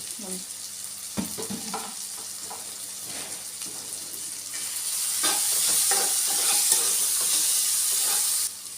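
Egg curry masala with turmeric, ginger-garlic paste and tomato sizzles in a pan while a spoon scrapes and stirs through it, the frying hiss swelling louder in the second half.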